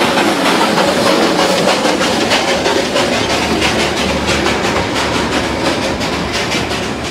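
Darjeeling Himalayan toy train rolling close past roadside shops: a loud, steady rumble with rapid clickety-clack of wheels over rail joints, continuous and near throughout, with no voices.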